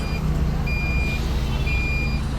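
Heavy road traffic rumbles constantly while a truck's reversing alarm beeps in a steady, evenly spaced pattern above the engine drone.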